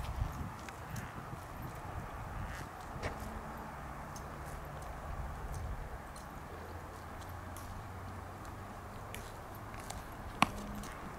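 Horses move about at a distance, their hooves making faint, irregular clip-clop steps under a steady outdoor hiss, with a single sharp knock near the end.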